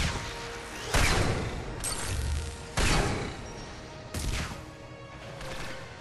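Enemies trading gunfire in Mass Effect 3, four loud, sharp bursts of shots spaced about a second apart, each with a short noisy tail over constant battle ambience.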